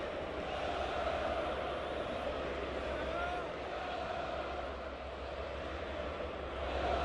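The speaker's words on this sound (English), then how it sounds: "And you hear the train? That's the train going." A train rumbles along the tracks behind right field at a Seattle ballpark, a steady low drone beneath crowd murmur and a nearby voice talking.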